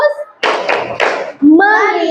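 Children in a classroom do a focus chant, with a brief call and then several sharp group claps in quick succession before unison voices rise again, loud and close.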